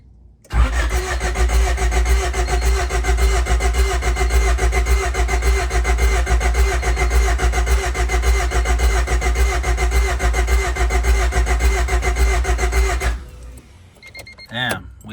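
A D16Z6-swapped Honda Civic race car engine cranking over on the starter, a loud, steady rhythmic whirring churn for about twelve seconds that never catches, then cuts off into a quieter pause.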